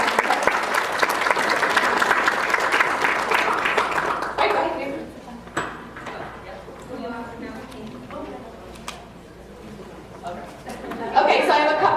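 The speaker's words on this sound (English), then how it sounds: "let's give one more big round of applause" An audience at a leadership event applauds loudly for several seconds, dense clapping that fades into murmuring crowd chatter, then a brief renewed burst of clapping at the end.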